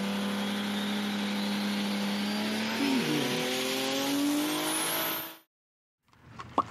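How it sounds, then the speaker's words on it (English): A sports car accelerates hard, its engine revving loud and close with rising pitch and brief shifts, for about five seconds before cutting off abruptly. "This is a sports car."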